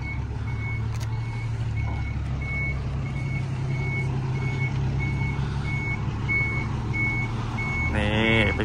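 A 2022 Isuzu X-Series pickup is driven down with its reversing alarm beeping at a steady, even rhythm over a low engine rumble.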